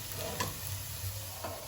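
Cauliflower dhoka cakes frying in hot oil, a steady close sizzle with a couple of brief clinks or stirring touches, no talk over it.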